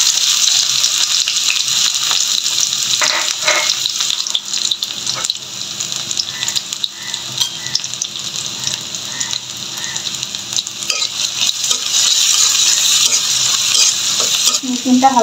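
Garlic frying in hot mustard oil in a wok, a loud continuous sizzle with occasional stirring scrapes running throughout, no talking.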